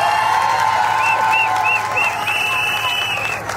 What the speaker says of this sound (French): Merci s'il vous plaît d'applaudir pour Manu